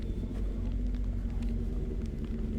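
A sports car or motorcycle approaching on a winding mountain road, a steady low engine rumble building continuously from a distance with no talk over it.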